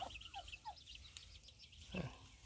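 Free-range yellow chickens with white tails call in the open, a few short clucks and a louder squawk near the end, fairly faint against quiet outdoor background.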